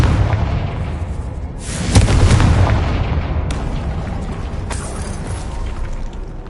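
A Confringo spell blasts in a Hogwarts video game, giving a booming explosion with mechanical clattering and creaking debris that rumbles on and settles over several seconds, with no talk.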